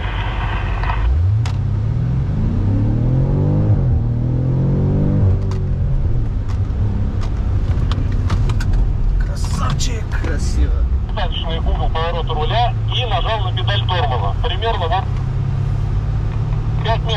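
Race car engine accelerating on the Kazanring Canyon circuit, a loud rising rev sweep early on followed by a steady droning engine and road rumble throughout, with people talking inside the car.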